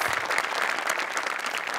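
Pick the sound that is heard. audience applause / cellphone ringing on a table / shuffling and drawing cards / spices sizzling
audience applause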